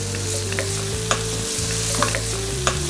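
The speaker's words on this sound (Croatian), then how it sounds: "Povrće dinsajte 10 minuta dok ne omekša." Vegetables sautéing in a pan for a vegetable pie give a steady, close sizzle with occasional light stirring scrapes over a constant low hum.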